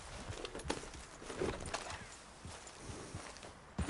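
Horse hooves clip-clop in a loose walking rhythm at moderate distance, several soft knocks spread over a few seconds against a noisy outdoor background.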